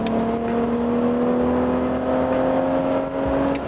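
BMW Z4 engine running while driving, a steady, rising engine hum with a clear tonal whine held close and loud for a few seconds, with no talking.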